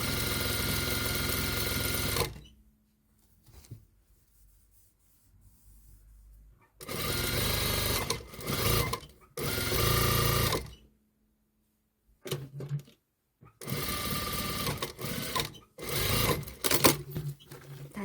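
Bursts of sewing machine stitching along the seam of wide-leg slacks being taken in, several loud runs separated by near-silent pauses while the fabric is repositioned.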